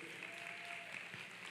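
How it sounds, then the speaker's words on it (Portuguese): An audience at a church service claps steadily, a dense wash of many hands applauding at a consistent level from start to finish. "Você pode dar uma salva de palmas para essas pessoas?"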